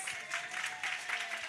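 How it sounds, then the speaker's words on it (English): Audience in a community outreach gathering clapping hands together, a steady moderate round of applause throughout with no talking. "Can we clap our hands for Glenice?"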